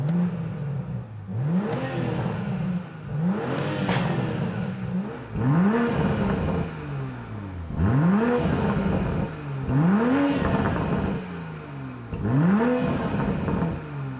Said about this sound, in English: This is a brilliantly sweet sounding engine